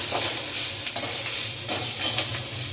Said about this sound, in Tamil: கருவேப்பிலை வந்து கலர் மாறாமல் பச்சை கலரை வந்து ரீட்டைன் பண்ணுற மாதிரி வதக்கிக்கணும்